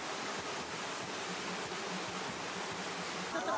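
Water pours steadily over the Jantur waterfall in Indonesia, a fall about six meters high with a wide swimming pool at its base, making an unbroken, even rushing roar throughout with no voices.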